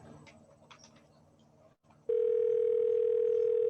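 A telephone call connects and a steady electronic ringing tone sounds through the handset, loud and unbroken after a brief quiet moment with faint background noise.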